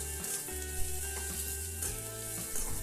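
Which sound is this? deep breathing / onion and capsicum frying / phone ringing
onion and capsicum frying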